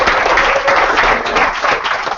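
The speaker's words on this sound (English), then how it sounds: "Big round of applause for Paul." An audience at a digital currency meetup in London applauds, dense loud clapping sustained for a couple of seconds with no talk over it.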